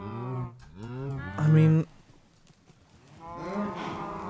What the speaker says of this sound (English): mobs in water, like cows in water, that has to be up there